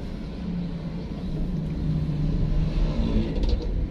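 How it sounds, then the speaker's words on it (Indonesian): A manual car pulls away as the clutch is released fully and throttle applied, its engine hum rising gradually and growing louder toward the end, fairly close and unaccompanied by talk. "kita lepas semua koplingnya baru digas"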